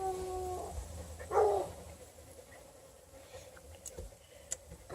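Newborn five-day-old Pocket Beagle puppies give a brief cluster of faint, high whimpers and squeaks near the start, then only soft rustling and low background noise.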